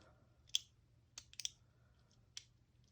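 A plastic Bakugan Pyrus Dragonoid toy is folded shut, giving a few sharp, quiet clicks and snaps spaced irregularly against a near-silent background.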